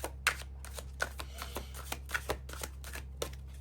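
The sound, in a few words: shuffling tarot cards during a reading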